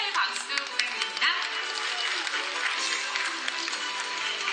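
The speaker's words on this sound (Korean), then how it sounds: "축하의 박수 부탁드립니다." Audience applause fills a cosplay festival hall during a celebratory photo session, a steady mid-level wash of clapping with faint chatter and music underneath.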